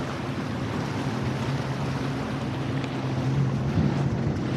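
A new 2025 SeaDoo jet ski with a 325 horsepower engine riding out on open water, a steady close engine roar with wind and water rush that swells slightly near the end.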